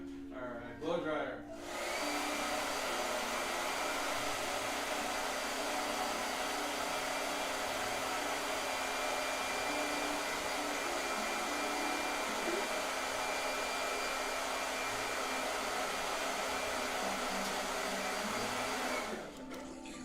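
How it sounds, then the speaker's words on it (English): A blow dryer runs loudly and continuously close by for most of the stretch, a steady whirring roar that starts and stops abruptly. "blow dryer"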